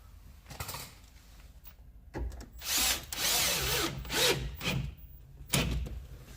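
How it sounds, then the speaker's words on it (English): Power drill boring a screw hole into the door of a 2011 Vauxhall Corsa D during a speaker install, with a short buzz followed by several louder whining bursts up close and no talk. "drill the first hole, stick a screw in it."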